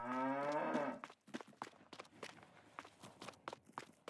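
A cow moos once in Farming Simulator 22, then a steady patter of hoofsteps or footsteps follows at a moderate distance.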